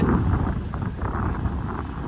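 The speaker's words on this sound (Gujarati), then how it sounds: "પવન છે જોરદાર ને આમ ચારે કોર વરસાદ પડે છે" Strong wind buffets and rumbles against the microphone in Kutch, Gujarat, with rain falling around, a constant close roar with no voices.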